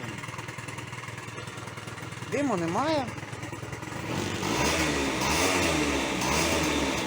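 A small two-stroke scooter engine that smokes and lacks power sputters to life and runs with a steady buzzing rattle, near, while someone speaks briefly over it.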